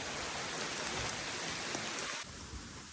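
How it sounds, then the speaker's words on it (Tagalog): Steady, dense rain pours down close by, a constant broadband hiss of drops that dips slightly in level near the end. "Nabutan na kami ng ulan."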